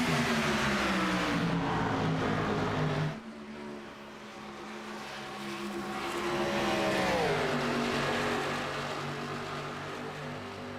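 Xfinity Series stock cars racing at Auto Club Speedway in a video game, engines droning loudly in a tight bumper-to-bumper pack, with one car's pitch sweeping downward as it passes mid-clip.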